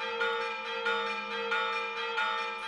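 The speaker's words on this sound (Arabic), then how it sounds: "بعد أن دقت أجراس كنيسة الروم الأرثوذكس" Bells of a Greek Orthodox church in Egypt ring on and on in a steady rolling peal, each stroke merging into a dense, sustained metallic shimmer heard from some distance, with no voices.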